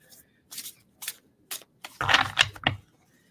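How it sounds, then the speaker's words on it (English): Large oracle cards are shuffled slowly in short papery bursts, a few isolated riffles followed by a denser flurry near the end, close and crisp. "take them a little bit slower to shuffle them"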